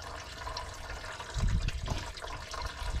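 Fuel drains from the drain valve of a 2011–2016 6.7 Powerstroke diesel truck, a close gurgling, splashing flow of liquid with low surging pulses, steady and unaccompanied by talk.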